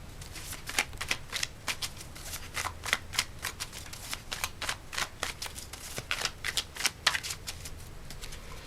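Tarot cards being shuffled by hand: a steady run of crisp riffling flicks and snaps, close and fairly quiet, repeating without pause and with no talking over them.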